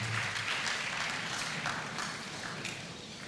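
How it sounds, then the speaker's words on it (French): A church congregation applauding, a steady wash of clapping from many hands at moderate distance with no voices over it, fading slightly toward the end. "Acclamons la parole."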